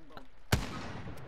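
A single sharp gunshot in a shooter video game, close and loud, followed by a short decaying tail, with faint background game noise before and after.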